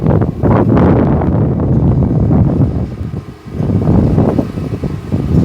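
Strong, gusty wind roars and buffets the microphone outdoors at a rural house, with a steady loud rush and brief lulls.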